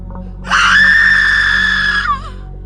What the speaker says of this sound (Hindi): तभी किसी की जोर से चीखने की आवाज आई।